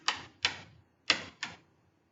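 Four crisp, close keystrokes tap on a computer keyboard, in two quick pairs with a short pause between them, each a sharp click with a short decay and no voice.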